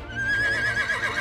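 A horse neighs close by in a single sustained whinny with a wavering high tone over a rough, breathy body, heard alone with no voices.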